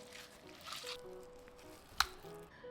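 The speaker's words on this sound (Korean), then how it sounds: "두부는 물기를 꼭 짜내고" Tofu is pressed and wrung out to drain its water, giving faint wet squishing and dripping with one sharp squelch near the end.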